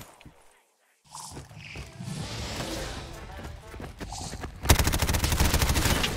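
In Call of Duty Zombies on the Goonies-themed Fratellis Restaurant map, a gun unloads a full magazine: a loud, rapid string of shots closes out the clip after a jumble of game noise and a moment of near silence.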